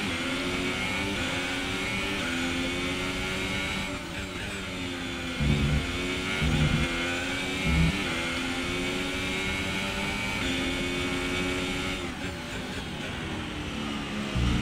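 A Formula 1 car in the racing game F1 2018 at the Canada circuit screams with a continuous high-pitched engine whine, rising and dropping in revs through gear changes, loud and steady throughout.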